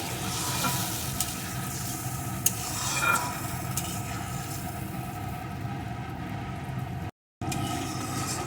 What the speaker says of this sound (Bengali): আর ভাজতে ভাজতে কিন্তু আলুটা একদম সিদ্ধ হয়েই গেছে এখন কিছুক্ষণ ফুটিয়ে নেব